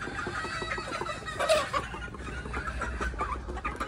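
Chickens cluck and mutter over a steady low farmyard din at a backyard range where young birds and stags are raised, with one louder squawk near the middle and no talking.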